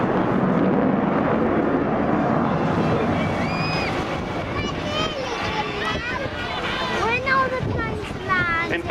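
The Avro Vulcan bomber XH558 roars overhead at a seaside air show, with a loud, sustained jet rumble and rising and falling engine howls. Someone talks continuously over the noise.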